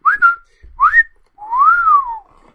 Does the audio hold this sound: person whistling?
yes